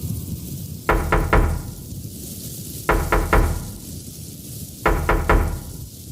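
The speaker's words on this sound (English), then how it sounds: "On the porch, an old beggar woman stood knocking." Knocking on a shut door, three groups of three firm, evenly spaced raps about two seconds apart, close and clear over a low background hum.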